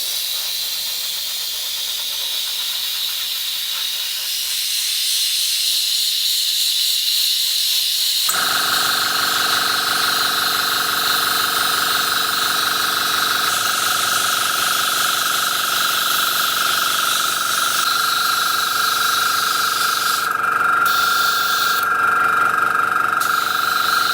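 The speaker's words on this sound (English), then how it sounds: "My airbrush does seem a bit cocked" A faulty airbrush sprays with a continuous loud hiss that shifts in pitch and sputters partway through, then turns choppy near the end, used on a scratch-built 8th Doctor TARDIS model.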